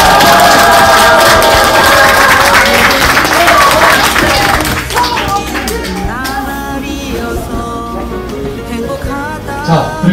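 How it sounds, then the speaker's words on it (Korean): A crowd at a presidential campaign launch rally in Incheon claps and cheers loudly and densely, the applause thinning out after a few seconds beneath an amplified voice speaking over a PA. "큰 박수 부탁드립니다."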